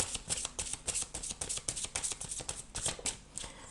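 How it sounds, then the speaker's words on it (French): Tarot cards shuffled in the hands, a continuous close riffle of papery slaps and flicks in an uneven rhythm, steady and moderately loud throughout. "je vais tirer une première carte de guidance pour les Verseaux"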